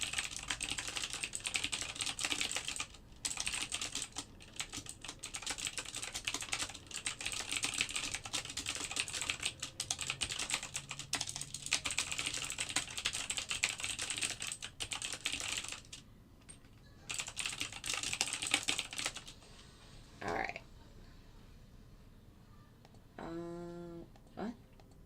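A computer keyboard clatters in long, fast runs of close keystrokes with brief pauses while a message is typed during a live algorithmic trading session, and a voice speaks near the end.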